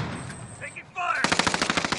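In a video game, a brief tone and a few electronic blips give way to a sudden burst of rapid machine gun fire, loud and close, in quick repeated cracks.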